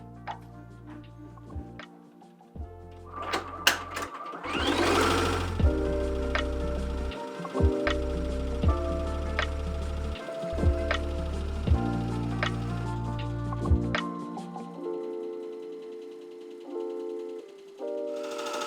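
A home sewing machine stitching with metallic thread runs in a steady rhythmic whir of repeated needle ticks with brief pauses, close and fairly loud, then stops near the end.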